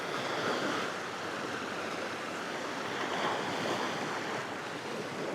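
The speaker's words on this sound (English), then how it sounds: "So the water's breaking in right now." Waves breaking and washing in continuously, a broad steady surf roar with gentle swells in loudness, wind noise mixed in, no voices.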